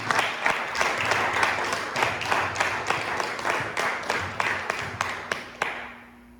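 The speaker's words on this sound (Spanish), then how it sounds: "Denle un aplauso al Espíritu Santo." A church congregation claps in honor of the Holy Spirit during a sermon, with rhythmic, unified handclaps in a steady beat that slow and fade out after about six seconds.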